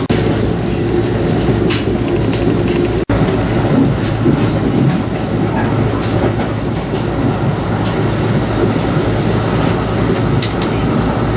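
An Amtrak passenger train heard from aboard runs on its rails with a loud, steady rumble and rhythmic clatter of wheels, broken by one sharp click partway through.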